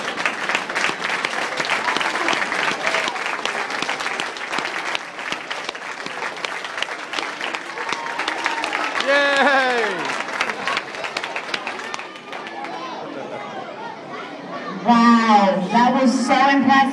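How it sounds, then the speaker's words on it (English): Audience clapping and cheering at a summer talent show, loud at first then thinning, with voices and shouts from children breaking through over the crowd noise. "So give him a round of applause."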